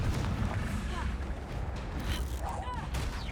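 Confringo fire spell explosions in the video game Hogwarts Legacy, a dense, continuous rumble of booming blasts with crackling bursts layered over game noise, loud throughout with no clear gaps.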